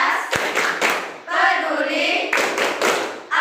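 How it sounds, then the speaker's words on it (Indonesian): Schoolchildren in a classroom perform the rhythmic IPA clapping chant, sharp bursts of hand claps alternating with the group's chanting voices, close and lively in a repeating beat. "Selanjutnya kita tepuk IPA ya, Nak, ya."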